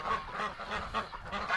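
Several geese or ducks honk in a series of close, moderately loud calls that come in uneven bursts, with no talk.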